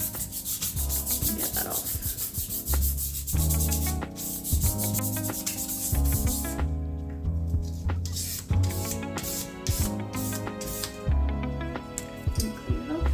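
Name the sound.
sanding a jewellery block with sandpaper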